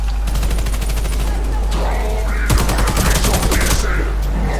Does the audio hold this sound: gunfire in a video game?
yes